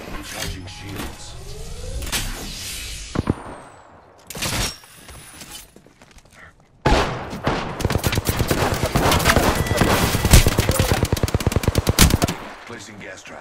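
Loud automatic gunfire in Apex Legends, opening with scattered shots and whooshing effects, then a long sustained rattle of rapid fire that ends abruptly.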